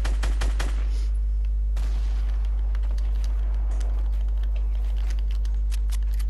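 Tactical shotgun blasts in a Fortnite duo-versus-squad match, a quick burst of sharp reports opening the moment followed by scattered shots and clicks over a constant low game hum.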